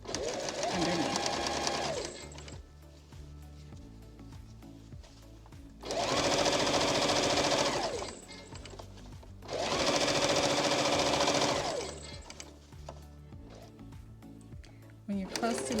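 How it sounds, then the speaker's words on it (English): A sewing machine stitching a pillowcase shirt runs in three loud buzzing bursts of a few seconds each, separated by pauses, with a voice talking faintly underneath. "And just stitch right around, making sure that everything is folded and neat underneath."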